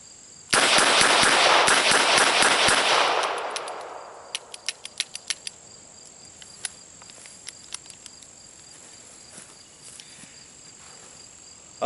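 A High Standard Sentinel R-101 .22 LR revolver with a repaired hammer spring is fired in rapid succession. A dense, loud burst of cracking reports lasts about three seconds, then scattered sharp clicks follow against a quiet background.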